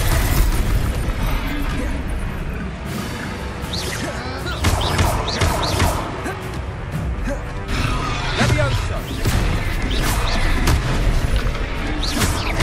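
In a Harry Potter video game, Confringo spells set off repeated booming explosions and crashes. The blasts are loud and dense, running nearly throughout, and voices shout over them.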